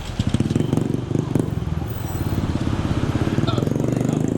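A Bolt taxi arriving in Pattaya, its engine pulsing with a steady, rough idle that grows slightly as it draws near, with some talk mixed in.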